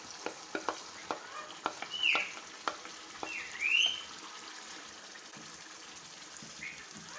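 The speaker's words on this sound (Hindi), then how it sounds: "उबली हुई दाल हम इसमें डाल देंगे।" Boiled mash dal (urad lentils) is tipped into sizzling masala in a pan and stirred, with soft frying hiss, repeated spoon scrapes and clacks, and a couple of brief wet squelches, with no talking.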